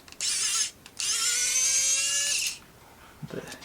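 An electric screwdriver whirs in two bursts, a short one then a longer high-pitched run, as it removes screws from a DualSense controller during a battery change, followed by a faint click of handling.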